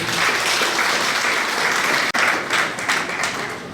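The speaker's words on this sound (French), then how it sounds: "Applaudissez pour les deux" Wedding guests at an official marriage ceremony applaud the couple, a full, continuous burst of clapping with a brief break partway through before it picks up again.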